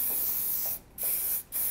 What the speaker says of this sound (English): use our forceful 23 and I'm going to spray that down